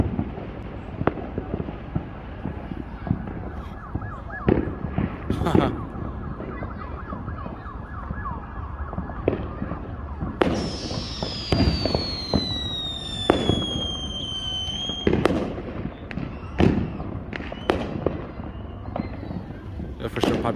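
Fireworks crack and pop on the Fourth of July on the east side of Las Vegas. Sharp bursts are scattered throughout at close and middle distance, and emergency sirens wail in the background.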